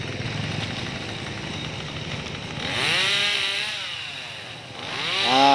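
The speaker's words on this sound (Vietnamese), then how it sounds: "Cái clip cưa cái cây này mình quay hơi dài nha các bạn" A chainsaw revs up and bites into wood, its engine pitch dipping and rising as it cuts, loud and close.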